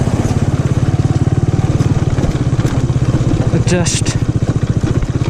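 An off-road motorcycle rides a rough dirt trail near Pelhar dam, its engine a loud, steady, pulsing rumble close by with clattering over bumps; a voice speaks briefly.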